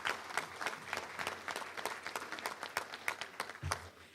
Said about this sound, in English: Let's give them a round of applause for the great job they do.